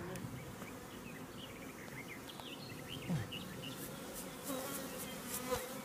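Bees buzzing around during a spring honey harvest, a low continuous hum with individual insects swelling briefly louder as they pass close, otherwise fairly faint.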